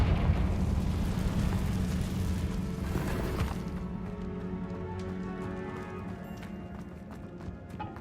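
Confringo blasting spell exploding in Hogwarts Legacy: a loud, roaring burst with debris crackle for a few seconds, then a quieter lingering rumble and scattered rattling fragments as it dies away.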